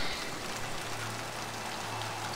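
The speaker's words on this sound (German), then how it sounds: "Es regnet." Steady rain in Mass Effect 2 hisses evenly, a soft continuous patter with a faint low hum underneath and no voices.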